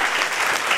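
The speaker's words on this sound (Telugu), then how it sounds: "అందరు క్లాప్స్ అయితే కొట్టే" An audience at a CPR awareness session in a collectorate hall breaks into a short, dense burst of clapping.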